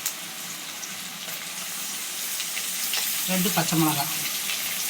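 Onions and tomatoes sautéing for a chicken gravy, a steady frying hiss with a scraping stir near the end, while a voice talks briefly over it.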